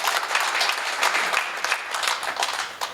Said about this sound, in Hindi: एक बार जोरदार तालियां होनी चाहिए उनके लिए।